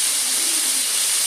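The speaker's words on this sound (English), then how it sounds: "I have the sausages frying now to make them nice and golden brown on the outside" Italian sausages frying in a pan, a steady, close, bright sizzle and hiss that holds evenly throughout with no talking.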